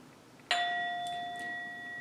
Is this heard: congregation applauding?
no